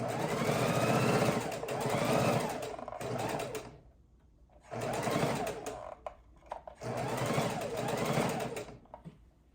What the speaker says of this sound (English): lock our stitch at the beginning, and finish up our bone pillow